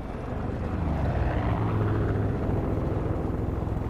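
A low, droning engine rumble of a propeller plane passing overhead in the video game Far Cry 5, steady and fairly loud throughout with no speech.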